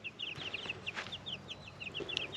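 Chickens in a temporary run on grass cluck softly in a quick, scattered series of short calls, fairly close, with no talking.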